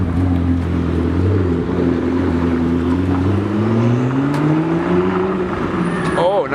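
A Brabus car with an aftermarket exhaust drives past, its deep engine note droning loud and then climbing in pitch as it accelerates by, with a crowd noise underneath.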